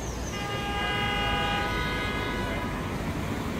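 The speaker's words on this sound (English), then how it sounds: "The honks of horns." Horns honk outside near a queue line at a gate, a single sustained blast lasting over a second above a constant background rumble, fairly distant.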